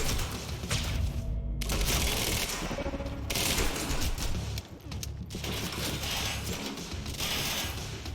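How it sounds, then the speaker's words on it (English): Bursts of machine gun fire in the video game Quantum Break, several sustained rattling volleys broken by short gaps, loud and close with no talking over them. "Maybe I should use my machine gun."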